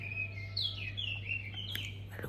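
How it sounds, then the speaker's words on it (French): Small birds sing at dawn, a run of bright chirping whistles and trills heard from a short distance over a low steady hum, with no one talking. "Vous entendez des oiseaux?"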